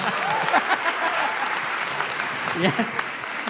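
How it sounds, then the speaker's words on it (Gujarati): A comedy show audience gives a burst of loud applause for the Gor siblings, dense clapping mixed with a few cheers and voices that holds steady and tapers slightly at the end. "તો ગોર સિબલિંગ્સ માટે એક વખત જોરદાર તાળીઓ થઈ જાય."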